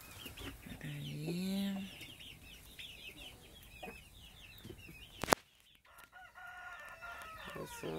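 Chickens cluck and chicks peep inside a henhouse, with a loud, low crowing call near the start and high, scattered chirps and clucks continuing close by; a sharp knock breaks in midway.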